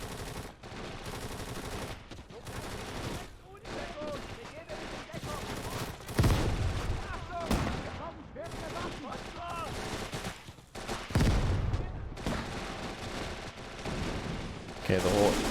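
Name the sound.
mortar fire on a trench in the video game Gates of Hell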